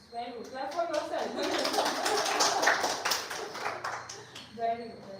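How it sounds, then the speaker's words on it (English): A class claps for themselves in a steady patter of many hands, close and moderately loud, with a voice briefly heard near the end. "Clap for yourself."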